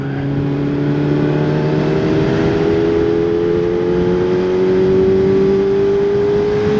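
A loud, close four-cylinder engine of a QJ Motor SRK 421 RR motorcycle drones steadily, its pitch rising gradually as it revs up, with no voices.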